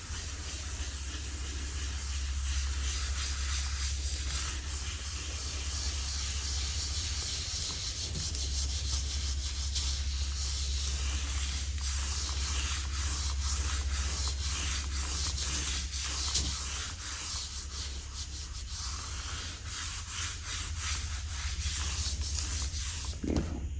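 Soft pastel is rubbed and blended on paper, a continuous quiet scratchy rubbing that runs steadily for the whole stretch, close up and without any talk.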